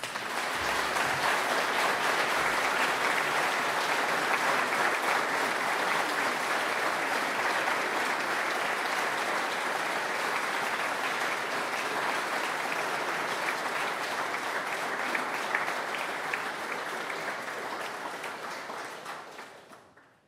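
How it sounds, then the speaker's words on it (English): A live-stream audience applauds, a dense, steady wash of clapping that lasts about twenty seconds before fading out. "I'd like to finish with a big round of applause for Teresa."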